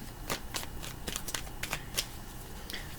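A deck of tarot cards is shuffled close by in a series of soft, papery riffles and flicks, with uneven bursts of rustling and no voices.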